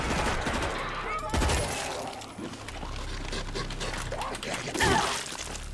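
Bursts of rapid gunfire from the zombie shooter World War Z, repeated volleys and single shots in bursts, with players' voices talking over the fighting.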